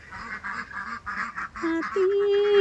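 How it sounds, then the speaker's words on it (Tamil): Farm waterfowl, ducks kept in a pen, call out in a run of nasal honking quacks, with a steadier drawn-out call rising toward the end, loud and close against a busy outdoor background. "இது வாத்து"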